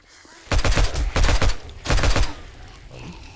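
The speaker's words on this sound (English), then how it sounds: "I'm going to pull out the pistols this time." Three rapid bursts of pistol fire from the video game 7 Days to Die, each a quick flurry of sharp shots close and loud, separated by brief pauses, with a faint tail after the last burst.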